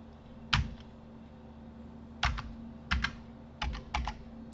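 Computer keyboard typing in short clustered bursts of keystrokes, several separate groups spread across the stretch, fairly close over a steady low hum, with no talking.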